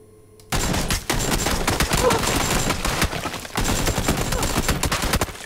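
Bursts of rapid automatic gunfire in PlayerUnknown's Battlegrounds, loud and close, firing nearly continuously for several seconds with a brief break partway through.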